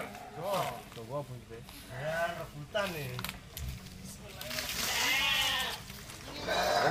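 Gibas sheep being loaded in a village, bleating loudly and repeatedly in long wavering cries, close up, with people talking and shouting around the animals.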